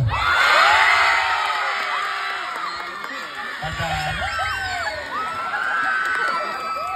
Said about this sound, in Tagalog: Palakpakan na sigawan para kay idol!